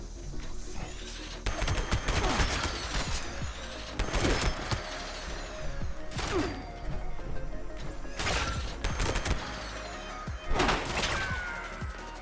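Single-shot plasma rifle fire in Fallout 76, heard as a few loud, close, crackling energy blasts that come in spaced bursts, with heavy impact crashes and no talk.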